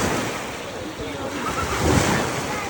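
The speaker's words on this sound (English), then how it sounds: "Beautiful, clean beach. Beautiful sand, lovely view of the Caribbean Sea." Surf washing onto a clean sandy Caribbean Sea beach, a steady broad wash of waves with light wind noise on the microphone, swelling slightly partway through, with no talk.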